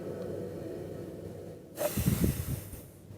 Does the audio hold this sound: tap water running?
no